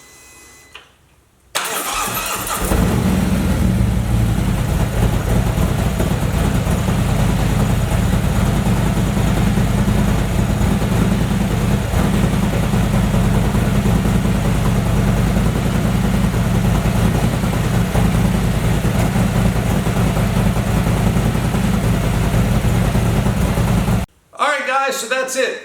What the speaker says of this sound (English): Now we're going to go ahead and start this bike up. Let it run for several minutes to warm up.